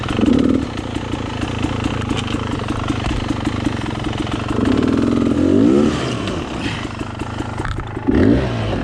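A dirt bike engine on a mountain moto ride revs in rising bursts, loud and close, settling into a rough idle between throttle blips.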